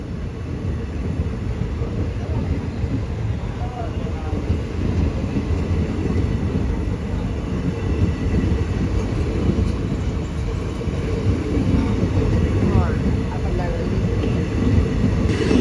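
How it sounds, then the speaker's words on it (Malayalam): The Tiruchendur Express rumbles steadily with a deep, continuous roar, loud and close, as it pulls out of the station. "തിരുച്ചെന്തൂർ എക്സ്പ്രസ് വന്ന ഉടനെ തന്നെ പുറപ്പെട്ടു"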